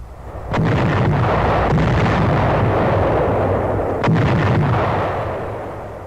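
Heavy naval bombardment of invasion beaches, with bombs and shells landing as a continuous loud roar of blasts and rumbling explosions, two sharp booms standing out above the din.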